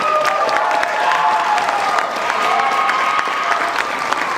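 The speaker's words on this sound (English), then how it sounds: "how about a round of applause for our two soloists on the last tune, Braden Stroud" Audience at a jazz concert applauds the two soloists after a swing tune, a steady wash of clapping with scattered cheers, held at even loudness throughout.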